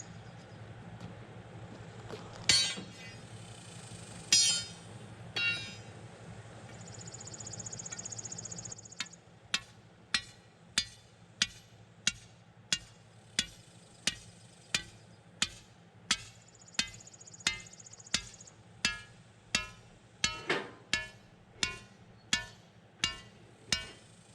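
Sharp metallic hammer strikes on rebar for a house's stem wall ring out in a steady, evenly spaced series, with a few scattered hits first, over a low background hum.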